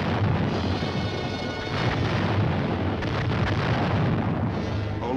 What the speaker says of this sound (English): At H-5, the artillery opens up.